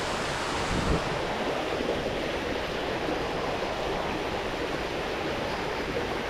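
An overflowing small stream after flooding, its water rushing in a continuous broadband roar close to the microphone, steady and loud with no voices.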